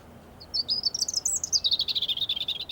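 Birds in the Eden Project garden give a quick run of bright, high chirps, starting with a rising twitter and settling into rapid repeated tweets, fairly close over a quiet background.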